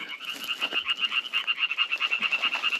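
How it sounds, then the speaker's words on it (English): A frog croaking close by at night in the southern Peloponnese, Greece, in a rapid, pulsing trill that repeats steadily, with faint rustling underneath. "We found a frog."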